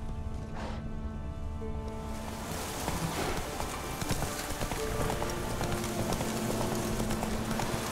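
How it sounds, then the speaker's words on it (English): Horse hooves clip-clopping at speed in The Witcher 3: Wild Hunt, a steady galloping rhythm under game music and ambience, loud and close throughout. "Run, Roach"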